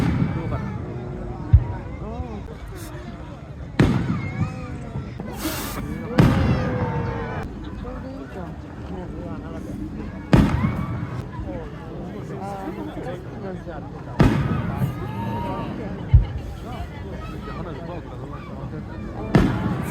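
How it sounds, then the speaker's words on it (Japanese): Winter fireworks display in Yamanashi, Japan, with repeated loud booming bursts spaced a few seconds apart, followed by crackling, while people talk nearby throughout. "上の花火綺麗だ。"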